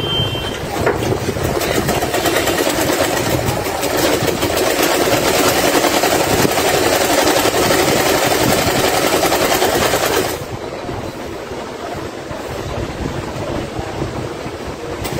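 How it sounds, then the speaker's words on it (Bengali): Sewing machine stitching a churidar salwar, a steady rapid mechanical whir running loud and continuous for about ten seconds, then dropping to a quieter hum. "এখন সেলাই করবো।"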